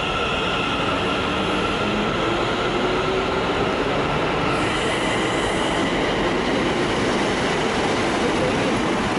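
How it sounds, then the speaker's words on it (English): A Northern train pulls into Preston station with a loud, continuous rumble of wheels and engine, faint squeals of wheels on rail, and a steady platform din without speech. "Northern trains arriving"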